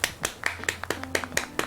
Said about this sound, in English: The only way I can stop clapping is if I move